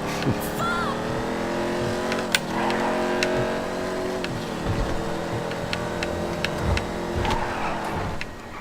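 A Coquette Classic car in GTA 5 Online drives with a steady engine drone, its revs rising and falling between gear changes and marked by occasional sharp impacts, while a player speaks over it.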